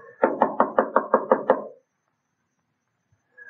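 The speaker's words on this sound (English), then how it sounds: "I had to knock." Eight evenly spaced knocks rap on a door as a 1940 radio drama sound effect, close and firm, followed by a silence and a faint stir of sound at the end.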